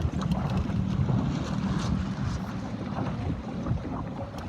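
Steady wind rushes and buffets the microphone aboard a Sabot dinghy during a regatta, a continuous low roar with water noise beneath it and no voices.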